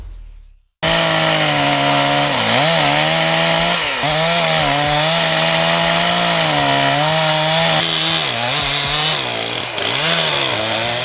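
Stihl MS 361 chainsaw, a 4.6-horsepower saw, felling an old oak near Lavamund, Austria, roaring loud and close without pause, its pitch dipping and recovering as the chain bites into the wood.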